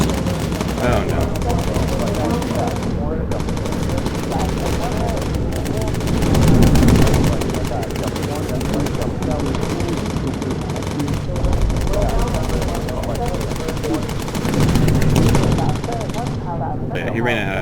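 Machine guns firing on a World War II bomber in Bomber Crew, a steady and loud rattling burst that goes on almost without a break over the droning aircraft, with people talking throughout.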